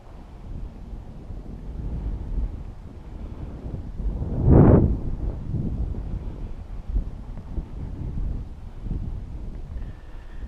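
Wind buffeting the microphone during a fat tire bike ride across an open field, a steady low rumble with one loud gust burst in the middle, no talk.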